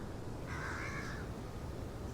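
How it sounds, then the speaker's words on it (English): A single drawn-out crow caw rises over a steady background hiss, moderately faint and seemingly from above, with no talking. "overhead you hear the sound of crows cawing and perching on high"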